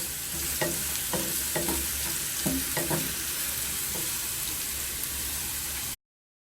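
Crushed garlic sizzles in a small amount of hot oil in a wok, a steady, loud frying hiss broken by the scrape and clatter of stirring, then cut off abruptly.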